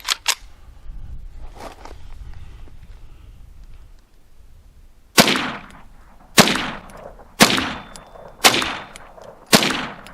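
Five rounds of CCI Uppercut .22 ammunition are fired into ballistic gel outdoors, five sharp, loud reports spaced about a second apart after a stretch of quiet handling noise.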